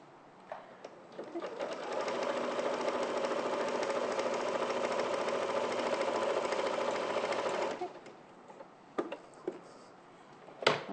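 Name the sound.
sewing machine stitching with a walking foot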